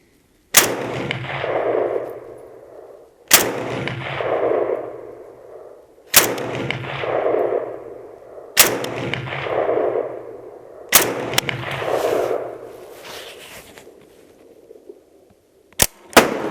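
A Chinese Type 97 Gen 3 rifle fed from a Lancer Advanced Warfighter magazine fires five loud, sharp shots at even intervals of about two and a half seconds, each with a ringing decay, followed by a couple of faint metallic clicks.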